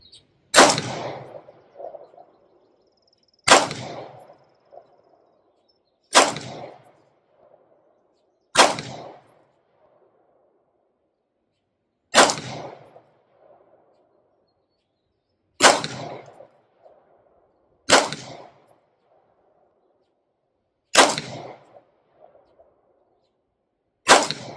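An Inglis P-35 9mm pistol fires nine single shots at a slow, uneven pace, each a sharp crack followed by a short, dull metallic ring from the steel gongs, with silence between shots.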